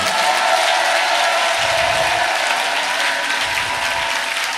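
A congregation at a Pentecostal revival church service applauds loudly and continuously, a dense, steady wash of clapping from many hands filling the whole stretch.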